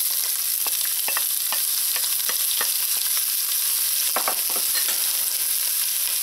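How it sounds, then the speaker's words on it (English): Onions sauteing in about a tablespoon of canola oil for spinach rice, a steady close sizzle with a few sharp clicks and stirring scrapes scattered throughout. "To the oil, add your onions"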